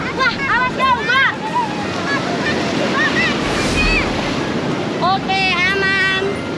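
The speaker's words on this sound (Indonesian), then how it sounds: "Cukup di pinggir-pinggir aja udah sebesar ini ombaknya." Ocean waves surge and wash in along the edge of a beach, a steady broad roar with a swell in the middle, while children's voices chatter and exclaim over it throughout.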